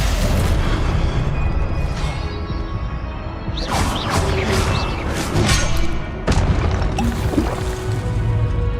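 Spell impacts in the Hogwarts Legacy video game, including Stupefy, land as repeated booming thuds and bursts over a dense, loud rumble of combat effects that stays busy throughout.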